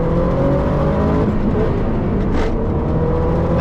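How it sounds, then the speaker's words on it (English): A rare 1994 Subaru STI, one of 200 built, drones loudly and steadily as its engine speed shifts through a fumbled, missed gear change, with no voices over the mechanical noise. "the car I just misshifted, my one of 200 ever created 1994 Subaru STI"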